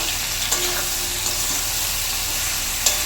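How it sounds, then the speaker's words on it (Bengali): Ripe green chili paste with poppy seed is stirred into drumstick stalks frying in a pan, giving a loud, steady, hissing sizzle throughout with occasional soft stirring scrapes close by. "এখন এই মশলাটা আমি দিয়ে দিচ্ছি। ভালোভাবে নাড়াচাড়া দিয়ে নেবো।"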